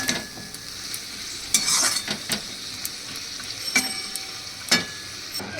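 Spice masala with a little added water fries and is stirred in a pan, with a steady sizzle broken by repeated spoon scrapes and clinks against the metal.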